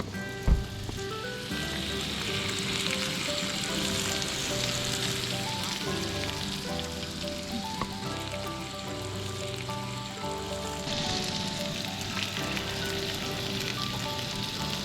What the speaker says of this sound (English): the sizzling of bacon